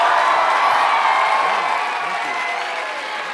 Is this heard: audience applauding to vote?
yes